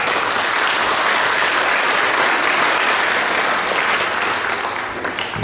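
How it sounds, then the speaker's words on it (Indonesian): Loud, continuous clapping from a church congregation at a Sunday school Christmas celebration, a thick sustained roar of applause that eases slightly near the end. "Tepuk tangan sekeras-kerasnya untuk Tuhan"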